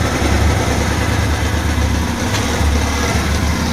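A Spark 125 4WQ moped engine with a slight air leak idles steadily at close range while warming up in about minus 4 to minus 5 degrees Celsius, a continuous low putter with no revving and no voices.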